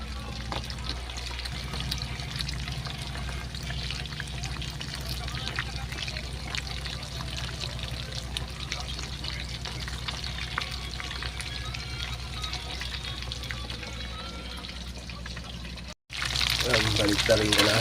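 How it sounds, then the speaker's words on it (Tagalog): Ground pork sizzles in boiling cooking oil, a dense steady crackling hiss that continues throughout, with a brief cut and a louder burst near the end; a voice speaks over it. "Kumukulo yung mantika."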